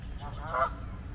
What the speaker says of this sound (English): And then you got geese.